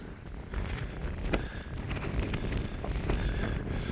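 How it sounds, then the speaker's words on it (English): Gusty wind buffets the microphone outdoors, a continuous rough rumble with occasional louder thumps and no voices. "A little windy."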